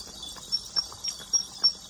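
A mare led at a calm walk, her hooves striking the ground in a steady clip-clop of about four evenly spaced, moderately close steps against a faint background hiss, with no talking.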